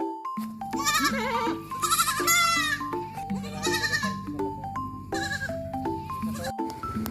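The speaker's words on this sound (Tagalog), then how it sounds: "Yan mga kambing." Several goats bleat repeatedly nearby at a backyard goat farm, their wavering cries overlapping over steady background music.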